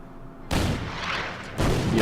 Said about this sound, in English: The artillery takes a shot